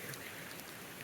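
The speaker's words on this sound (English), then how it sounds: "It's raining a lot." Rain falls steadily on a hiking trail, a dense close hiss of drops with no talking.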